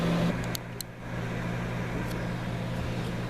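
A kitchen microwave oven runs with a steady low electrical hum and fan drone throughout, close and continuous, with a couple of faint clicks near the start and no talking.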